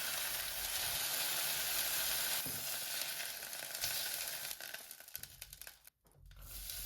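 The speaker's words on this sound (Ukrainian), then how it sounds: "М'ясо обсмажую на сильному вогні і постійно помішую, щоб воно зарум'янилося з усіх боків" Loud, steady sizzling of meat cubes frying over high heat in a pan, with occasional scraping and stirring noises near the end.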